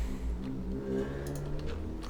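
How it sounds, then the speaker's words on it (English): A noisy car passes outside, a low engine rumble with a rising rev heard at a distance under quiet indoor room sounds and a few light clicks. "Oh, that's a noisy car."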